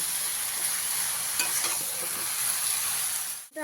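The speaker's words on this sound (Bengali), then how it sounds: "গ্যাসের ফ্লেমটা হাই করে দুই থেকে তিন মিনিট ভালোভাবে বেগুনটাকে" Potato and brinjal frying in a pan over a high gas flame, a loud dense sizzle with stirring scrapes throughout that cuts off abruptly near the end, no talking.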